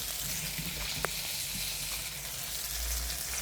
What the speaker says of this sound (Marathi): आता मी साहित्य टाकून घेते हे वाटण लसूण खोबऱ्याचं